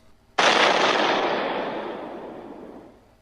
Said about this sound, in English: suddenly they were rocked by a loud explosion